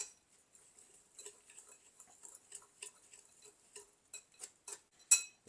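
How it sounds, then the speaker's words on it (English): A whisk mixes a dry bacon cure in a bowl, giving quiet, irregular light ticks and clinks of metal wires against the bowl, close and faint, with no talking. "Now we're just going to take a whisk and we're going to whisk all this together."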